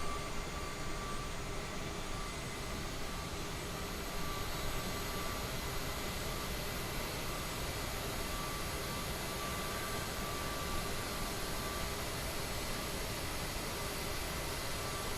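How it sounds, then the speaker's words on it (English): A CRJ-700 regional jet's left engine starting up, heard as a steady broadband roar with faint whining tones that holds evenly throughout, with no talking. "This engine coming alive."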